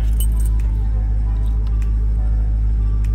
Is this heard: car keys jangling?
yes